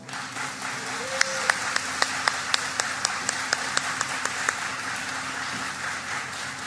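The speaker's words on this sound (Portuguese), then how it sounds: "Vamos receber com muito carinho, com muitos aplausos" An audience at a Spiritist lecture applauds steadily throughout, a dense wash of clapping with a few sharper individual claps standing out near the front.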